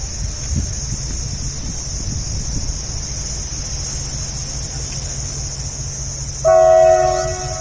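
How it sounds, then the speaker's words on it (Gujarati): A train rumbles past at a distance, with a steady mechanical drone, and its horn sounds loudly near the end. "બાજુમાં ટ્રેન છે એટલે ટ્રેનનો અવાજ આવતો જ"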